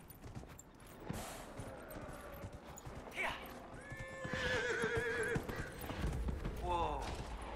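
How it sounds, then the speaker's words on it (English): Horses in the game Dragon Age: Inquisition whinny and neigh in rising calls while hooves clip-clop steadily beneath, fairly faint overall, with voices speaking over the scene. "Mount the horses."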